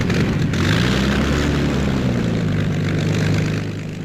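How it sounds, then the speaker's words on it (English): RAF fighter aircraft propeller engines starting up and running, a loud steady droning roar with low throbbing tones, close by and continuous throughout. "Engines burst into life."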